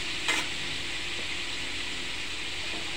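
Poppy seeds being mixed into fried ridge gourd and potatoes in a pan; a steady soft sizzle with a brief stirring knock early on, continuous and fairly quiet.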